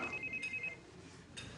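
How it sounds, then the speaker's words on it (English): A telephone rings indoors in a quiet domestic scene, its electronic ring repeating a few times at moderate distance with a brief pause before a final burst, no talk over it. "There's your phone."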